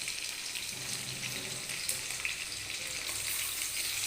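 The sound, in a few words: soybean chunks frying in a wok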